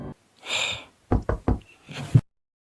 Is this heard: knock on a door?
yes